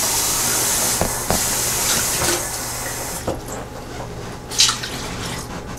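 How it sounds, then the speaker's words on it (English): Tap water pours steadily to rinse out an emptied can of cream of mushroom soup, a broad close hiss with a few drips and clinks that stops after about three seconds, leaving a quiet room tone. "I'm going to add a can of water with this. Rinse out the can good."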